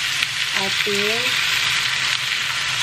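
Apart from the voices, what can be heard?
ground meat sizzling while frying and stirring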